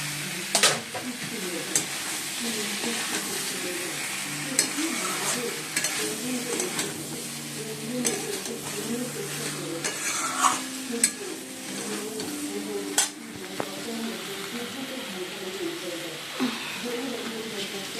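Potatoes and taro fry in a pan with a continuous soft sizzle, broken by scraping stirs and occasional clinks of a utensil against the pan, close by with a voice speaking over it.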